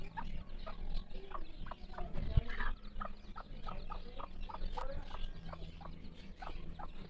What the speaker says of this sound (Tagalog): So ayan na po yung mga sisiw niya mga backyard